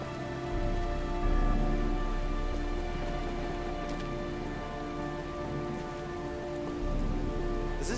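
Heavy rain pours steadily in the video game Heavy Rain, a dense, continuous rush of drops close by that holds at an even level throughout.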